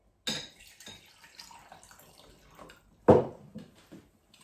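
Tap water is poured into a cup holding a tea bag, with a few soft splashes and dribbles and one louder, brief pouring splash partway through, all close and unaccompanied by talk.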